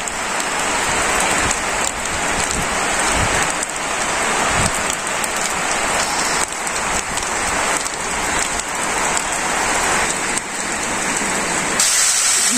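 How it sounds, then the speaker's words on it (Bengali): Steady rain pouring down outdoors in a village, a dense, loud, continuous patter on surfaces that holds throughout with no talk. "বৃষ্টি পড়তেছে।"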